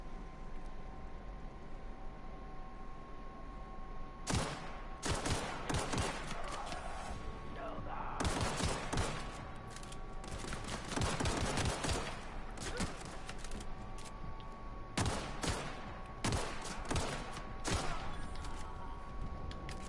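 Bursts of gunfire from a first-person shooter set in The Outer Worlds, with clusters of rapid shots separated by short quiet gaps, fairly close and loud, plus a faint steady tone underneath.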